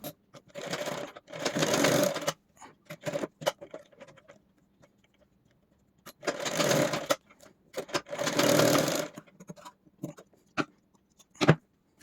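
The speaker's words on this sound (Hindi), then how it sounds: "इसको भी हम सिल लेते हैं।" A sewing machine stitches a blouse sleeve in several bursts of running, each a couple of seconds long, separated by quiet pauses and small handling clicks. The machine sounds close and fairly loud.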